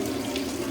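A kitchen tap runs steadily into a sink beside onions being chopped, a close, continuous hiss of flowing water with no talking.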